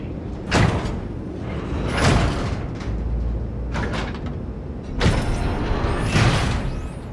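Mechanical doors in Cyberpunk 2077 slide with a whooshing rush several times, each sweep fairly loud and close, separated by short pauses over a low hum.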